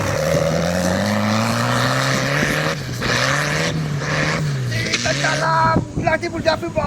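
A tractor engine drones through a pasture as it arrives quickly, a loud nearby rumble whose pitch rises and settles, with people talking over it and clattering toward the end.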